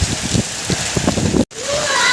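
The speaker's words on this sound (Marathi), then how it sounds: "पावसाचं वातावरण पाहू शकता तुम्ही यावर्षीचा पहिला पाऊस" Steady broadband hiss of rain falling, with a voice talking over it and a brief cut in the sound near the end.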